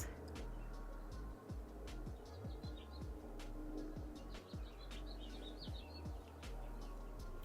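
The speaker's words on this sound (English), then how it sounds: "The birds are definitely out today." Birds chirp and tweet outdoors in scattered, fairly faint calls over a steady background hiss, with repeated low thumps and occasional clicks running underneath.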